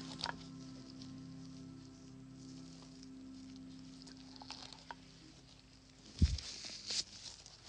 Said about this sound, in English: Storming in Kansas.